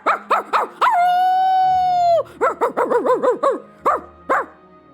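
A vocal performer in Hakuoki: Kyoto Winds mimics a dog with a burst of sharp yelping barks, a long drawn-out howl, then a rapid string of barks, loud and close.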